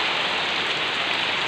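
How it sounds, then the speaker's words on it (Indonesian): Heavy rain pours steadily outdoors as a dense, loud, unbroken hiss of water striking surfaces close by, with no voices. "Hujannya masih deras ya teman-teman"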